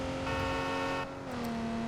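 A car engine in Watch Dogs 2 roars loudly and steadily while driving across San Francisco's Golden Gate Bridge, its pitch dipping slightly partway through before holding again.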